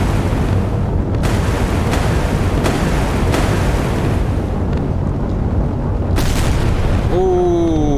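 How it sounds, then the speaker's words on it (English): A big explosion from a naval cruiser battle in Sea Power, HMS Belfast against a Sverdlov cruiser, sounds as a loud, continuous roar of booming blasts and heavy gunfire that fills the whole stretch, with sharp swells near the end. "Ooh, big explosion."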